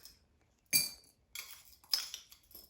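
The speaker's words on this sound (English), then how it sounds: "we're gonna put some popcorn kernels in each of our bowls, or each of our containers" Hard popcorn kernels poured into clear bowls or containers give two bright rattling bursts of small clinks, about a second apart, close and fairly quiet with no talking.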